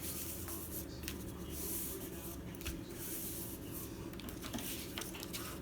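A sheet of paper is folded along its long edges while making a simple photo book, a faint soft rubbing and sliding heard under a steady background hiss.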